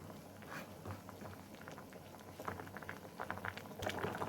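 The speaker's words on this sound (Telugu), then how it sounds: "ఒక 5 నిమిషాలు లేక 10 నిమిషాలు స్లిమ్లో పెట్టి ఉడికించుకుంటే చేపల ముక్కలు బాగా ఉడికిపోతుందండి" Fish sambar simmering in a pot on low heat, a faint, steady bubbling and soft patter of small pops close by, with no talking.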